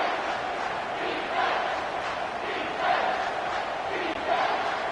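Stadium crowd in the College Football 25 video game, Arizona vs Kansas State, roaring steadily through a big third-down play, with swelling surges of cheering and no clear talk over it.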